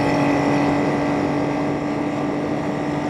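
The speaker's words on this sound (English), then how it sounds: "this is the Trident fabulous sound." A 1975 Triumph Trident T160 three-cylinder motorcycle engine runs steadily close by, giving a loud, buzzy, humming drone with a strong constant tone and little variation in revs.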